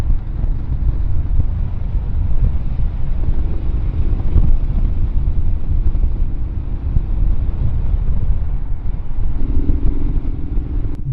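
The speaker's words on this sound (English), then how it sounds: "there's that purr of the V-twin" A V-twin motorcycle engine purring while riding on a twisting country road, a low steady throb blended with heavy wind buffeting on the microphone, with subtle rises in engine tone.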